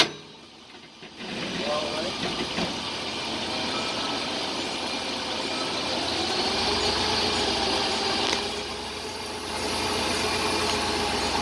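A Jeep/Dodge NP247 Quadratrac transfer case with a noise fault, heard in a vehicle driving in reverse: a steady broadband engine and drivetrain rumble that swells a little partway through, with voices nearby.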